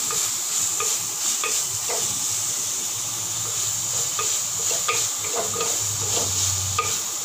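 Onions sauté in an open pan for a village-style fish curry, a constant close frying hiss broken by soft spatula stirs and scrapes, with no talking.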